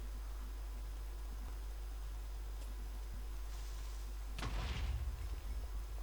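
A creeper explodes in a Minecraft cave, a single sudden blast with a crackling tail that breaks through a steady low hum after several quiet seconds.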